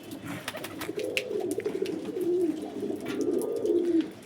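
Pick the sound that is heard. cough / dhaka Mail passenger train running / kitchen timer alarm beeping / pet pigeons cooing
pet pigeons cooing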